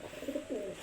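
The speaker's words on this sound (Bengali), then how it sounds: "এই দেখেন মেলের ডাকটা একটু দেখাই দেখি ডাকে নাকি" A male pigeon gives one soft, low coo lasting under a second, close by and fairly quiet, with no voices.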